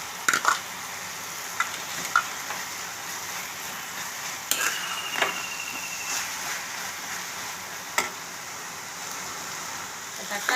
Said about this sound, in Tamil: தக்காளி கொஞ்சம் வதங்கணும். தக்காளி வதங்கிடுச்சு. பூண்டு போட்டுக்கிறேன். கருவேப்பிலையும் போட்டுக்கிறேன்.